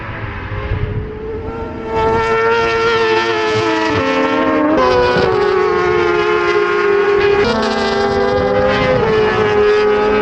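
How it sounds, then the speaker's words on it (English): Supersport 600cc racing motorcycles scream past at a race circuit, their loud high-revving engines rising and falling in pitch through gear changes, with one bike swelling in close and others overlapping across the whole stretch. "The bikes, the Supersport bikes sound absolutely stunning. Loud screaming engines, the 600s, it's absolutely brilliant."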